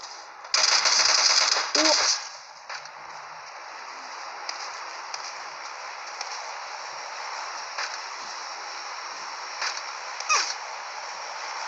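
A loud, rapid burst of automatic gunfire in PUBG Mobile Lite lasts about a second and a half, followed by quieter game ambience with a few faint distant shots.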